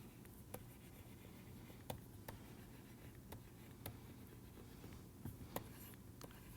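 Chalk or marker tapping and scratching on a board during a statistics lecture, a series of faint, sparse ticks and strokes spread irregularly over several seconds against a steady hum.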